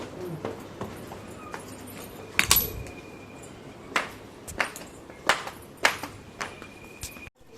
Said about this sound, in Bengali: বাইকের চাবি নিয়েছো?